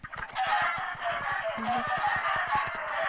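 Several Minecraft chickens cluck in quick, repeated bursts, close by and steady, with a brief higher squawk in the middle.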